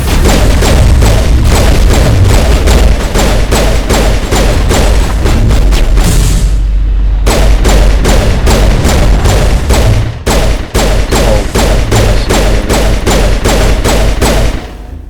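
Rapid, loud bursts of automatic gunfire crack and boom almost continuously during a firefight in the video game Mass Effect, with a few brief pauses between volleys.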